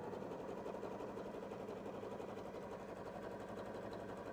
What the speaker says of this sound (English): let's just go ahead and sew on some cotton fabric, and let's switch it up to some decorative stitches